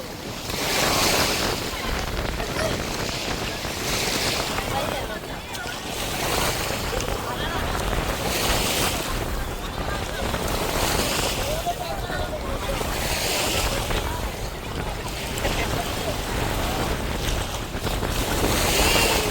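Sea waves wash ashore at Agni Theertham beach in Rameswaram, a steady broadband surf that swells and recedes every few seconds, with wind buffeting the microphone throughout.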